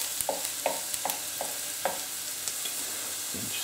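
Leftover vegetables are stirred in hot oil in a frying pan, with a soft steady sizzle under a string of sharp, regular scraping clicks of the utensil against the pan, and no talking.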